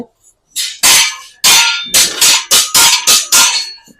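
Hammer blows on the welded steel angle of a home scissor gate, about nine loud ringing metallic strikes in quick uneven succession after a brief quiet start.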